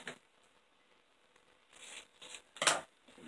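Scissors snip through a small paper banner sticker for a Happy Planner spread, a few quiet crisp cuts with paper rustling, ending in one louder close snip.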